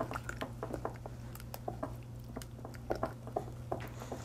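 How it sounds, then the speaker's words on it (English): Pecan pie filling with eggs is stirred in a bowl, giving soft, wet squishing and tapping strokes in an uneven rhythm, faint and close, with no voice. "We're just going to stir to combine everything, break up the yolks a little bit."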